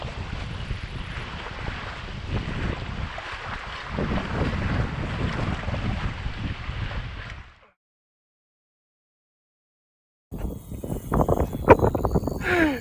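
Strong wind buffets the microphone in a constant roar during feeder fishing, cuts out to silence, then returns gusty and rough near the end.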